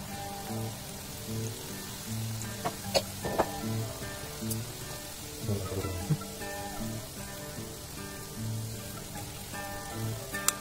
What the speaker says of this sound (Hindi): तेल गर्म हो चुका है, अब हम इसमें सबको डालते हैं